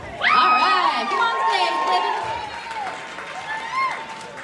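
An audience at an Art Battle live painting event in Wichita Falls applauds and cheers, with loud whoops and shouting voices over clapping that swell early and then taper off.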